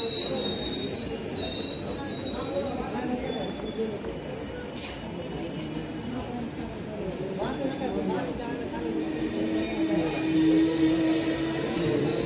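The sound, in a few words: train arriving at Patna railway station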